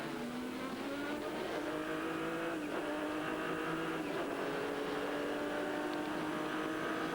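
Race cars in an American Le Mans Series race in 2000, a loud continuous engine roar with rising and falling revving tones as cars run past, no speech over it.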